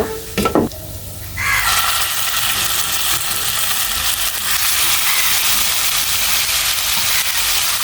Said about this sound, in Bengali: পেঁয়াজগুলো বাদামি হয়ে গেছে আমি এখন মাংসটা দিয়ে দিব